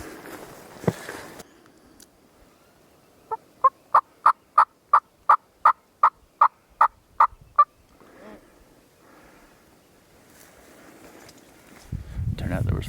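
Wild turkey longbeards in pine woods during a hunt: a run of about a dozen evenly spaced, crisp calls rings out at moderate distance against quiet surroundings, with rustling and wind noise around it.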